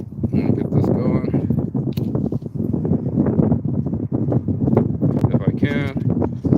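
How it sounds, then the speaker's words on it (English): Strong wind buffets a microphone outdoors, giving a constant rumbling roar with gusty rustling. Someone talks continuously over the noise. "As windy as it can be."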